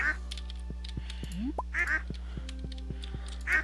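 Ducks on a farm in Stardew Valley give a few short, bright quacks amid steady game ambience, with soft ticking clicks and a low background drone.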